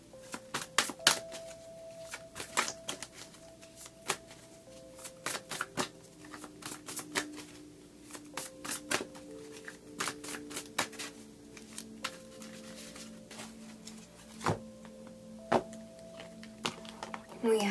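Tarot cards being shuffled by hand, a series of quick riffling and soft slapping bursts in an irregular rhythm, fairly quiet and close.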